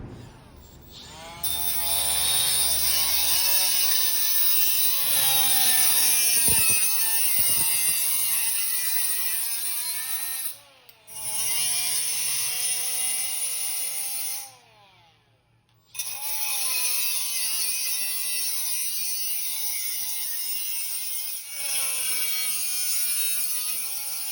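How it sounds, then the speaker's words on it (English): A small Milwaukee die grinder cuts metal on a baby carriage frame being turned into a shop stool, a loud, high, continuous whine that rises and falls in pitch and stops briefly twice. "I'm just going to use my little Milwaukee die grinder and cut it like this and like this"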